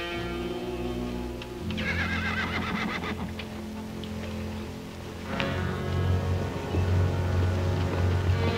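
Horses whinny in several loud, drawn-out calls while hooves clip-clop underneath, with a low steady rumble beneath.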